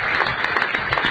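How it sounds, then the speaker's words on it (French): Brief burst of studio audience applause on a French radio quiz show, a dense patter of clapping for a contestant who has won a prize. "Nous l'applaudissons parce que ça devient rare."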